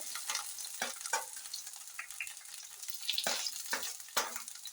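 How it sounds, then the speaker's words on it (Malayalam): Lengthwise-cut okra and green chillies sautéing in hot oil over a mustard-seed tempering for an okra curry. There is a close, steady sizzle with several sharp scraping stirs of the spoon through the pan. "വെണ്ടയ്ക്ക നീളത്തിൽ അരിഞ്ഞിട്ട് കൊടുക്കുവാണ്."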